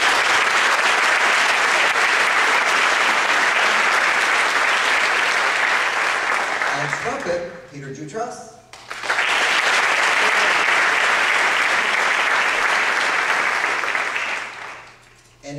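An audience at a high school jazz band's class-of-2013 recognition evening applauds graduating students in two loud bursts of clapping split by a brief lull, while a voice announces names over the sound.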